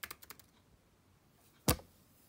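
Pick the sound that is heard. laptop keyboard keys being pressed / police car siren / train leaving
laptop keyboard keys being pressed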